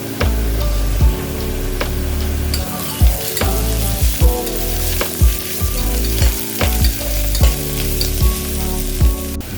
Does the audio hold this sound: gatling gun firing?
no